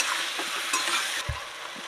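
Potatoes and tomatoes frying with turmeric in a village kitchen pan, a continuous sizzle with a few stirring scrapes and one dull knock near the end, no voices.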